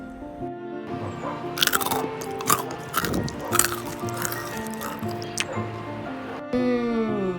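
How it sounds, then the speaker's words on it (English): Crisp homemade rice murukku, a fried snack, is bitten and chewed up close, giving a run of sharp crunches and cracks over several seconds against light background noise. "It's really crispy and really crunchy. Let me have a bite."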